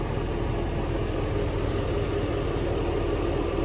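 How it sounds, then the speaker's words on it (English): Car engine running at idle during a Copart salvage-lot walkaround, a steady low rumble holding even throughout with no talking. "Let's take a listen to the engine too real quick"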